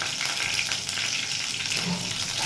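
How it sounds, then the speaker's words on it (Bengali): Slit green chillies and black cumin seeds frying in hot oil give a dense, steady sizzle close by, while a light stirring scrapes under it. "একটু নেড়ে নেব একটু ভাজা হবে গন্ধটা বেরোবে কাঁচা লঙ্কার আর কালো জিরের গন্ধটা"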